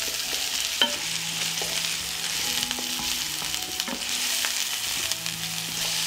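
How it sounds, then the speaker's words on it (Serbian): Chopped onion, carrot and garlic sizzle steadily in hot oil in a pan while a utensil stirs them, scraping and clinking at intervals close by, with no talking. "I sve ćemo promešati i propržiti da omekša."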